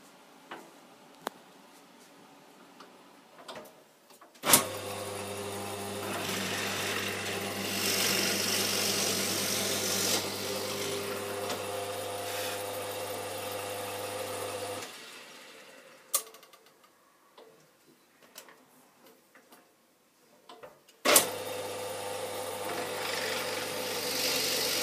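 A power drill runs steadily for about ten seconds while fitting tuners on a Spanish guitar, then stops; two shorter bursts of drilling follow, separated by quiet handling noises.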